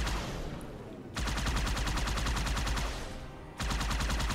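Rapid enemy gunfire in Halo 2 Anniversary, loud automatic bursts of repeated shots that stop briefly and resume, sustained and close.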